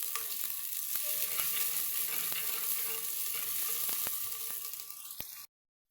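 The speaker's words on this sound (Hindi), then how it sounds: "प्याज को हमने ना ज़्यादा ब्राउन नहीं करना, हल्का सा सौते करेंगे प्याज को" Chopped onions sautéing gently in a pan for a chicken dish, a steady close hiss of frying with occasional stirring clicks of a spoon, continuous and even before cutting off abruptly near the end.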